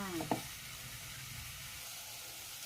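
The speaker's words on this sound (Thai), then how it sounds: "ผัดให้เนื้อสุกค่ะ ให้เนื้อเปลี่ยนสีค่ะ" Beef stir-frying in a pan gives a soft, steady sizzle. A brief clatter of the utensil comes at the start, then a faint, even frying hiss continues alone.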